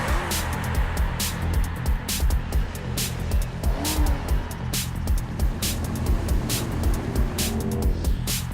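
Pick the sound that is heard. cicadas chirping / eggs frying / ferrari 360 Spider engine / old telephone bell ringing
ferrari 360 Spider engine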